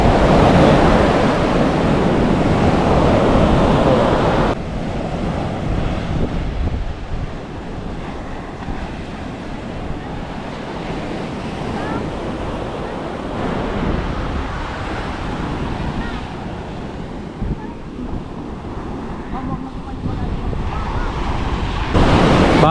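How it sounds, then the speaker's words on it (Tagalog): Strong Pacific surf crashes loudly and continuously onto a beach, with heavy wind buffeting the microphone throughout and no voices. "Oh, lakas ng alon, grabe. Parang galit na galit yung dagat, oh."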